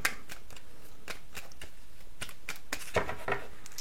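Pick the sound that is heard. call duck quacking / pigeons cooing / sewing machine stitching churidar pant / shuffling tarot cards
shuffling tarot cards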